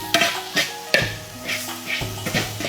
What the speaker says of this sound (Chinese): 再次翻炒均匀就可以了